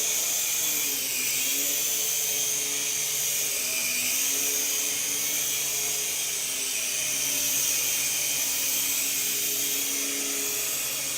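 A beginner RC helicopter hovers nearby with a continuous high, whining rotor and motor buzz that dips slightly in pitch now and then, steady and loud with no speech.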